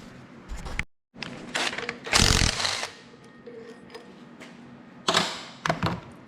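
A 1/2-inch socket wrench loosens a part on the Briggs & Stratton engine of a vintage 1964 Wards Power Kraft generator. Close, sharp metallic bursts of ratcheting clatter come in several uneven spurts with short pauses between.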